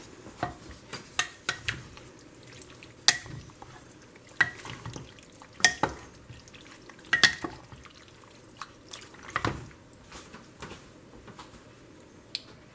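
Sausage and bell peppers being mixed in a slow cooker, a spoon scraping and clacking against the crock in scattered, fairly faint knocks with no one talking.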